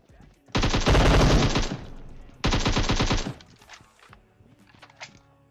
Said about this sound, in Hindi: और ये M762 की आवाज इतनी तेज क्यों आती है?